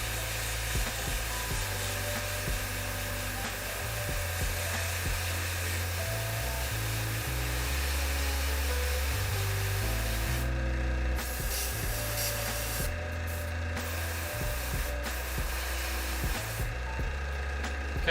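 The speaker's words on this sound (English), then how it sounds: "I'm just spraying the darker color covered up" Spray paint hissing onto a painted figure in short bursts over a steady low hum, a darker coat going on, with brief pauses between passes and no talk.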